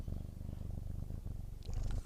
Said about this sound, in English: I hear him purr